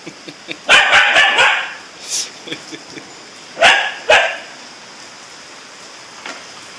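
A pit bull barks in two quick bursts of several sharp barks, close by, with steady rain pattering in the background.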